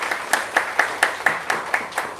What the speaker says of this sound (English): Can I have a round of applause for Bhavik?